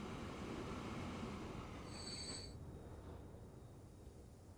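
A train in the Transport Fever 2 railway simulation rolls along with a steady low rumble and a brief high wheel squeal partway through, alone without talk.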